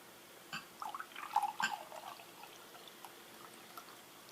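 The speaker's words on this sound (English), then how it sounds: "pour some cucumber water for all of you" Cold cucumber water poured from a container into a glass, a quiet short run of trickling and dripping splashes that fades into near silence.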